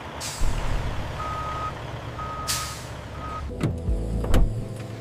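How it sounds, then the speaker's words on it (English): A delivery truck carrying bottled product to stores and restaurants backs up with three steady reversing beeps, rumbling engine beneath and sharp air-brake hisses near the end, loud and close. "From there, trucks move the product towards stores, restaurants, and events."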